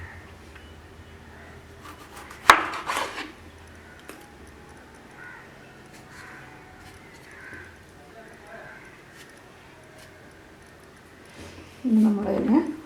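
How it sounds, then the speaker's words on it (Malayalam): A knife cuts tomatoes on a chopping board for a home chicken curry: a few sharp, close taps and knocks come in a brief cluster early on, with another louder bout at the end and quiet stretches between. "ഇനി നമുക്ക് തക്കാളി കണ്ടിച്ചെടുക്കാം."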